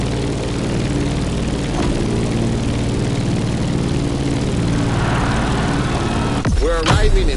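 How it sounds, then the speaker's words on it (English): A propeller airplane descending toward Honolulu in The Crew Motorfest, its engine droning loud and steady throughout, with a sharp whooshing sweep near the end as it passes close. "Let's start our descent and get ready for the landing."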